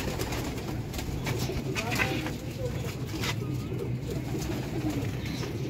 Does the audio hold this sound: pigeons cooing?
yes